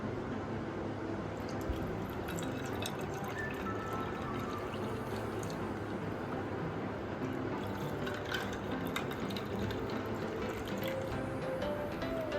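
Black grape and fennel sherbet poured into glasses, a steady continuous stream of liquid splashing and filling, close and even throughout without talk.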